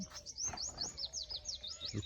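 A sparrow chirps near its nest at a village home, a quick run of bright, repeated tweets fairly close but soft, with faint background noise and a few low knocks.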